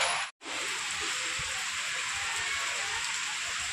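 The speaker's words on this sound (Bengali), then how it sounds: "এই দেখো কত জোরে বৃষ্টি হচ্ছে।" Heavy rain pours steadily as a dense, loud hiss on a roadside where people shelter, with a brief cut near the start and no voices.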